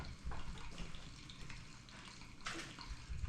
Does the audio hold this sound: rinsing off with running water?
yes